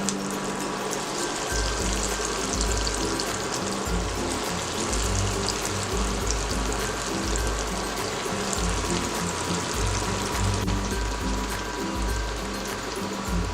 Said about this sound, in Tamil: இதில் நம்ம எல்லாம் போட்டு இப்போ ஃப்ரை பண்ணிடலாம்